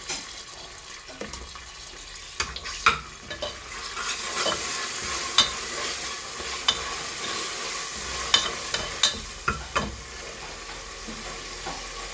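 Onions fry with ginger-garlic paste in a steady, close sizzle, broken by repeated sharp spatula taps and scrapes against the pan, with no talk.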